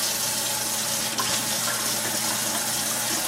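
Tap water runs steadily from a faucet, a continuous close hiss of flowing water with no breaks, as water is gathered to wet combed hair before starting a French braid.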